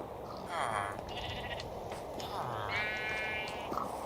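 Sheep in the video game Minecraft bleat twice in short, clear calls with a final faint bleat, heard over a low steady background hum.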